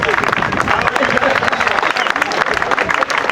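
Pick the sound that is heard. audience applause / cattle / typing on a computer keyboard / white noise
audience applause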